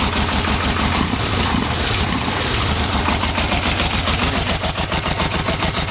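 A Yamaha V-Max motorcycle engine idles steadily up close with a dense, even rumble, running after an exhaust repair.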